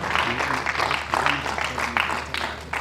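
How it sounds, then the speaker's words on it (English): An audience applauds the Federal Minister at a press conference on broadband connectivity for airports, with steady clapping across the room, mixed with some voices. "Please, let's keep clapping for the Federal Minister"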